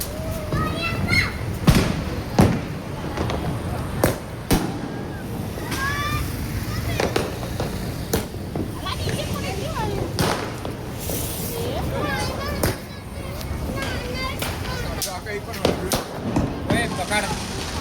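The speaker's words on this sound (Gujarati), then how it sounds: "અત્યારે હું આ લોકો બધા ફટાકડા ફોડી રહ્યા છે" Firecrackers pop one after another outdoors at a family gathering where rangoli is being drawn, a series of sharp bangs at irregular intervals under steady chatter and children's voices.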